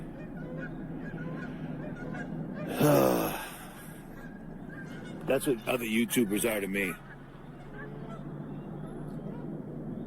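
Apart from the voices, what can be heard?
Canada geese honking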